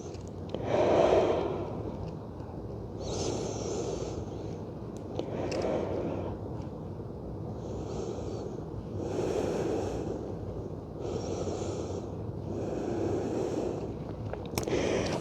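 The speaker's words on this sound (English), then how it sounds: "Breathing here." Deep, slow breathing during a yoga flow, with repeated long inhales and exhales in a steady rhythm, close to the microphone and with no talking.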